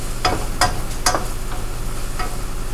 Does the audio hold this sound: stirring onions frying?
yes